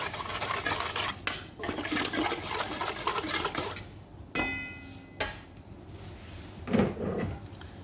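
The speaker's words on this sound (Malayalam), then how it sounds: "നോക്കിക്കേ, ഒരു നാരങ്ങയുടെ ജ്യൂസ് ഞാൻ ഒഴിച്ചു കൊടുത്ത് ഇതൊന്ന് മിക്സാക്കാം" Salad being tossed with lemon juice in a bowl: scattered scrapes, clinks and soft rustling of utensil against dish, with a few sharper knocks and quiet gaps between, close and fairly faint.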